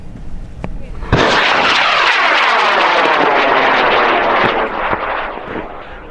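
A high power rocket motor ignites with a sharp crack at a large launch event, then roars loudly and steadily as it climbs before slowly fading. A voice is heard faintly under the noise.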